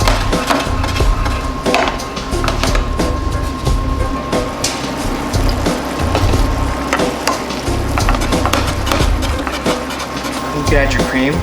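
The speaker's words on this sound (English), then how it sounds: "At this point, I'll add my sun-dried tomatoes so they can start cooking as well." Sun-dried tomatoes cook in a risotto pan with a steady, loud sizzle and frying crackle, broken by scraping stirs, and a voice talks over it.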